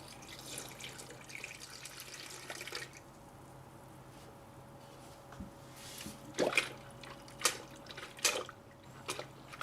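Engine coolant poured into the cooling system of a 2018–2022 Honda Accord, giving a faint, quiet trickle that turns into a few louder drips and splashes near the end, with no talking.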